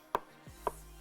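Two crisp knife strikes on a chopping board while dicing tomatoes with skin and seeds, spaced about half a second apart, close and distinct over a quiet background.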